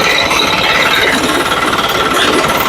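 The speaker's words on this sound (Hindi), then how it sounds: "अब मैं इसका कटर चालू करता हूँ।" A digital reaper with its cutter engaged, driven by a 7 hp diesel engine, rattles loud and continuous at close range with a rapid mechanical chatter.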